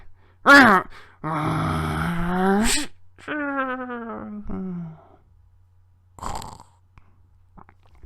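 A human voice imitates a motorcycle driving into a canyon with a burst of sneeze-like noise, a strained revving groan, a descending whine, and a faint final crash-like puff, all close and exaggerated.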